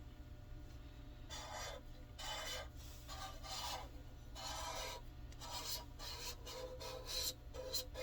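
A piston lapped up and down inside its casing gives repeated rasping, filing-like strokes in a steady back-and-forth rhythm, close and fairly quiet over a low hum, with no talk.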